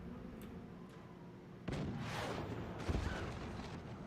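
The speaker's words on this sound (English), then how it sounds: "Let's just keep these cannons firing." Cannons fire in the strategy game Forts amid a busy battle, with a sudden boom followed by ongoing rumbling and a second thump, all at a fairly low level.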